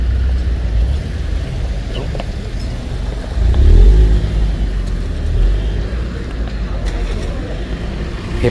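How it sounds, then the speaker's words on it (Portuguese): A car rolls toward a pedestrian crossing on a steep, winding street in Gramado and slows, a low engine rumble swelling briefly near the middle before easing, heard close amid street noise. "Reparem agora que o carro vai parar na faixa de pedestre para a gente passar."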